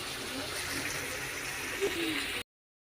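Water is poured into a tea pot holding partly boiled vegetables, a steady close gushing rush for about two seconds that cuts off abruptly.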